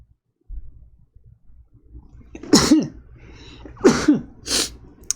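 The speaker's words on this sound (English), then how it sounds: "That mask was dusty and I'm gonna sneeze now." Three sharp sneezes burst out in quick succession after a stretch of quiet breathing and faint shuffling, loud and close.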